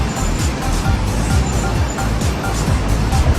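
A car rolling into a car park, heard as a loud, continuous vehicle rumble with rhythmic low thumps and broadband road noise throughout, and no clear voices on top.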